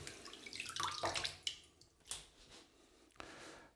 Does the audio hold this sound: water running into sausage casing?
yes